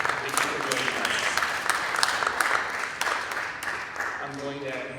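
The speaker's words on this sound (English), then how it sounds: "We could give our speaker a round of applause, please." An audience at a city charter reform commission meeting gives a speaker a round of applause: dense, even clapping that thins out before a voice starts speaking near the end.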